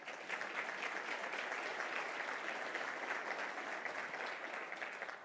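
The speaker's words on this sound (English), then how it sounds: "And that deserves a round of applause" A large audience at a city's State of the City address bursts into sustained, dense applause, steady and loud throughout with no voices over it.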